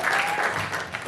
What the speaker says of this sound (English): can you just clap again